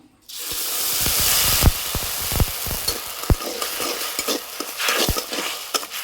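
Sugar and water in a wok being heated for syrup, a steady frying hiss with repeated sharp scraping and stirring knocks, close and fairly loud.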